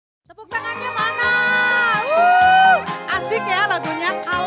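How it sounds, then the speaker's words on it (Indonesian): Concert audience at an Indonesian music show cheering and shouting, with loud sustained pitched screams that rise and fall continuously for several seconds. "Tepuk tangannya mana?"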